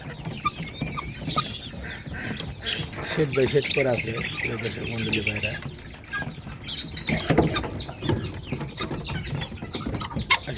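Partridges and Chinese chickens cluck and call softly while feeding in a farmyard, their clucks mixed under someone talking almost throughout.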